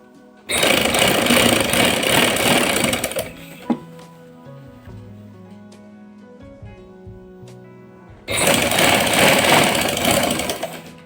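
A sewing machine stitching the lining of a kameez runs in two loud, fast whirring bursts, with a quieter stretch of low tones between them.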